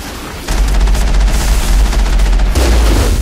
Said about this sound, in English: the enemies on the bridge are shooting at me now